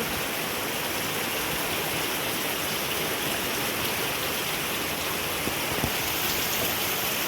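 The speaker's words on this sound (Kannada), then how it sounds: "ಇದು ಜೋರು ಮಳೆ ಬರ್ತಾ ಉಂಟು" Heavy rain pours steadily in a dense, unbroken hiss, with no voices.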